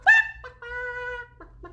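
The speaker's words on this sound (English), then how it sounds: "She's a beautiful little hen, isn't she?" A small hen gives a few close, clear clucks and a drawn-out tonal call, alone with no talking, in short bursts over less than two seconds.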